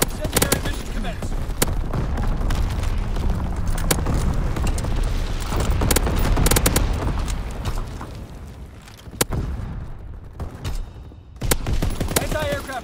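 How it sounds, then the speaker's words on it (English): Artillery fire in a video game: a dense, loud barrage of booms and blasts rolls on almost continuously, then thins into a few sharp separate shots near the end. "Firing division artillery."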